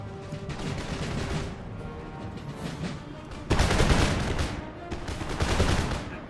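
Conscript musket volleys crackle across an Empire Total War battlefield in rolling bursts of overlapping shots. A heavier, louder volley breaks out midway and another swells near the end.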